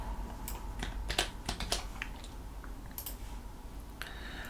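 Keystrokes tapped on a computer keyboard during Arch Linux setup, a scattered run of light, irregular clicks with small pauses, close and fairly quiet over a faint hum, no talking.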